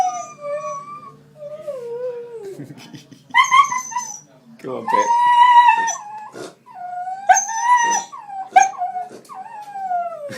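Dogs outside a country pub whine, whimper and break into long rising howls and yips, close and fairly loud, while a person briefly speaks to them.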